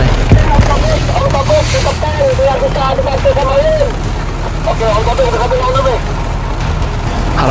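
Heavy rain in a stormy forest during an off-road drive, a steady dense wash of rain noise and vehicle rumble running throughout, with someone talking over it most of the way.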